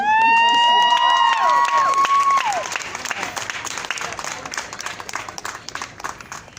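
An audience applauds after a spoken testimony at a youth speaker event, loud sustained clapping with some cheers, while a sweeping whistle-like tone rings over the first seconds before the clapping continues alone and gradually thins.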